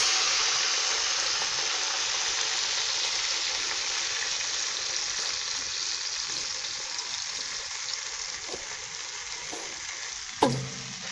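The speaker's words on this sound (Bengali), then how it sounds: "আর আমি মাছ ভাজার তেলটা দিয়ে দিচ্ছি" Oil for frying tilapia sizzles steadily in a cooking pot, a loud, close, continuous hiss that holds even throughout, with a sharp clank near the end.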